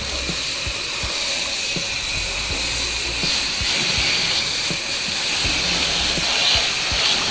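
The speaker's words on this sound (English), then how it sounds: "I'm using the M5 twist nozzle to rinse." A pressure washer with an M5 twist nozzle rinsing the front of a house, a continuous loud hissing spray that holds steady throughout with faint low thumps underneath.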